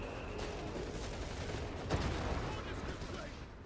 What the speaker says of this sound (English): Oh, now another strafing run.